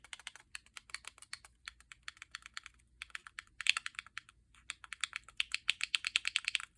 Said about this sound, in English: let's check out the buttons to make sure they have their proper clicky sound